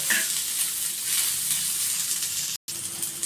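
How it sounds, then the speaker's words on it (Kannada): Okra for bhindi sukha fry sizzles in a pan with a steady, close hiss, with a faint stir near the start and a brief silent break near the end. "ಒಂದೆರಡು ನಿಮಿಷ ಚೆನ್ನಾಗಿ ಫ್ರೈ ಮಾಡ್ಕೊಂಡ್ಬಿಡಿ"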